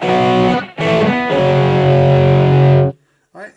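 Electric guitar through a Boss eBand JS-10 set for a signature tone with no reverb, playing loud distorted sustained notes and chords with brief gaps, ending dry and abrupt.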